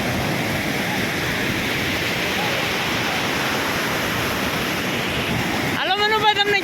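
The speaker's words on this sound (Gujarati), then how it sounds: "તમે આ જોવો છો તો ધોધ પડી રહ્યો છે. જોરદાર ધોધ છે" Water from the overflowing Shetrunji dam near Palitana pours down in a loud, unbroken roar, with a voice cutting in over the rushing water in the last second.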